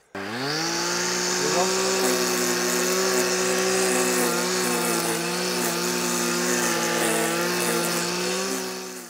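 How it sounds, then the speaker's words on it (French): A small two-stroke brush cutter engine over-revs and holds a loud, steady whine, the pitch wavering slightly as it runs without load. "Le moteur va tourner, va monter dans les tours pour rien."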